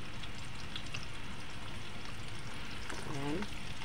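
Ginger fries in a pan as the first ingredient for a beef offal dish, a steady, even sizzle that carries through the whole stretch at moderate level. A voice speaks briefly near the end.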